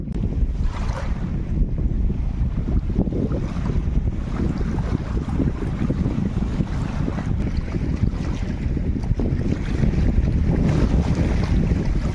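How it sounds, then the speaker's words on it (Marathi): Strong wind buffets outdoors on a riverbank where buffaloes gather, low gusty roar with rustling over it, steady and fairly loud throughout. "मस्त अशी हवा सुटली"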